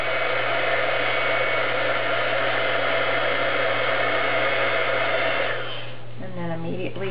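Heat gun blowing to melt embossing powder, a loud, steady whooshing hiss that runs evenly for about six seconds, then switches off abruptly, leaving a quiet room and a brief voice.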